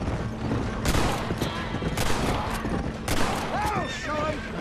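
Gunshots in Red Dead Redemption, several sharp cracks spaced a second or so apart over a steady game background, with people talking and a horse heard briefly.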